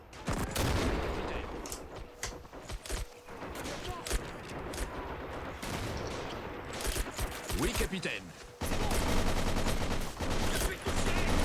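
MAS 36 rifle fire in a World War II strategy video game: dense, overlapping battlefield gunshots and volleys, with a continuous busy rumble of combat and a voice talking over it.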